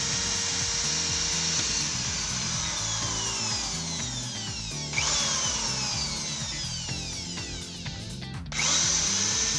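Power drill boring screw holes through a homemade flashlight holder, a loud continuous whine with rising and falling motor pitch, grinding bursts as the bit bites and restarts near the end.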